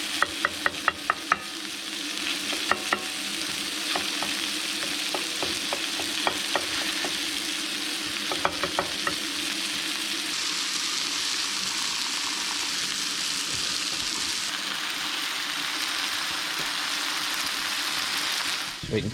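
Breakfast fries in a pan inside an ice-fishing tent on a frozen lake, a steady close sizzle with scraping and tapping stirs near the start, continuing alone.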